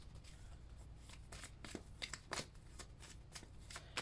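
Tarot cards being shuffled by hand, a faint, close run of soft riffling flicks and taps in irregular bursts over a low steady background hum.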